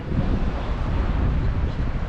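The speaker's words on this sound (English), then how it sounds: "It's a bit windy here," Steady, loud wind buffets the microphone in a continuous low roar in Kraków, Poland, with no voices.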